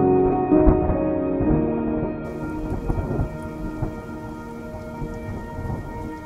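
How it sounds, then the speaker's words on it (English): Warm torrential rain falls in Shenzhen, a dense, steady downpour hissing on surfaces while deep thunder rumbles underneath, loud and continuous throughout. "The warm torrential rain."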